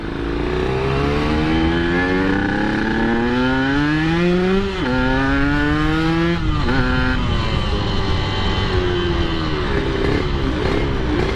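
Yamaha RX King two-stroke motorcycle engine revving hard and continuously, loud and close, with pitch climbing through gears, dropping briefly, then rising again.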